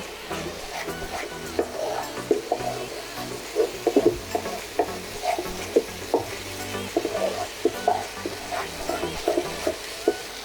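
Cashew and poppy seed paste being stirred into fried ground spices in a pan, with a soft sizzle under repeated scraping, squelching spoon strokes and occasional light knocks, fairly close.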